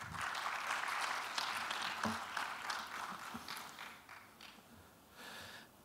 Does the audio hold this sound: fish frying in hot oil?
no